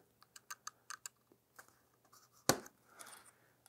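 A knife cutting into a plastic toy piece, a string of sharp close clicks and scrapes followed by a louder snap-like crack and a brief scratching drag, in a quiet room.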